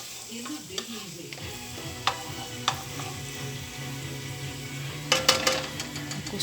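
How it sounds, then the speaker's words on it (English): Garlic for fried rice sizzles softly in a pan at a steady level, with occasional scrapes and clinks as a utensil stirs it against the pan. "I'm gonna wait till the garlic turns golden brown"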